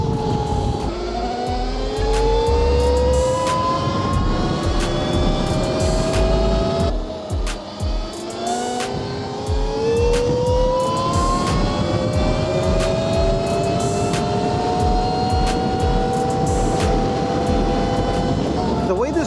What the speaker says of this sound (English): This bike just rides super smooth, and I really like how the throttle feels.